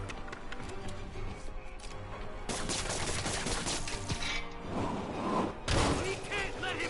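Enemy gunfire in the Spider-Man PS4 video game, with bursts of shots and thuds over a dense, busy game soundscape that grows louder partway through.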